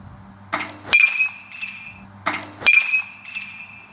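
Two sharp metallic pings of a 2026 Mega Bonesaber BBCOR baseball bat bunting a ball, each ringing briefly with a high tone before fading, spaced about two seconds apart.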